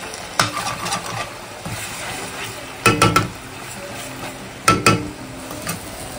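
Two eggs fry with stir-fried carrot and capsicum in a pan for home-cooked chowmein, a soft steady sizzle broken by three bursts of clattering stirring and scraping, a low hum running underneath.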